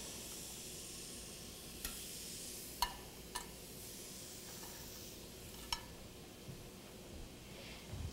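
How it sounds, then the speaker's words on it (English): Pork chops sear in a grill pan preheated to about 400 degrees with canola oil, giving a steady, moderately quiet sizzle with a few sharp pops and crackles scattered throughout. "put them on a grill pan."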